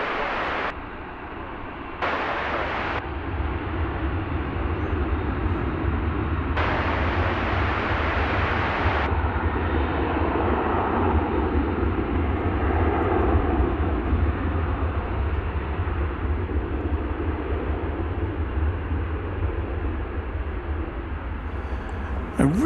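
A plane at DFW Airport takes off from runway 18 left as a steady, broad roar that holds loud and unbroken through the whole stretch, with brief hissy bursts early on.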